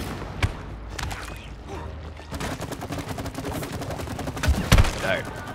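Rapid bursts of video game gunfire from It Takes Two fire at spawning enemies in quick clustered volleys with heavier thumps, loud and close, under excited player chatter.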